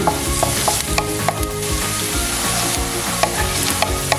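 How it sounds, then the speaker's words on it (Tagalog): Red onion and garlic sauté in a pan with a loud, continuous close-up sizzle, while a spatula scrapes and taps repeatedly across the surface; no speech. "Pag nakita nyo na medyo luto na yung ating sibuyas at bawang"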